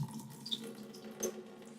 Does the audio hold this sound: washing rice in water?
yes